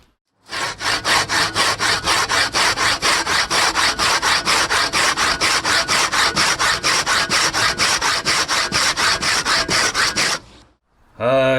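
A restored 100-year-old hand saw cutting wood, with about forty even back-and-forth rasping strokes, close and loud, ending abruptly with a brief pause and a final scrape.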